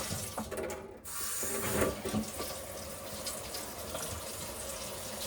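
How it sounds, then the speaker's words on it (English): Hot and cold water run from an open kitchen sink faucet, a steady close rushing splash with slight sputters as air clears from the supply lines. "I'm going to go ahead and open the hot and cold water up here"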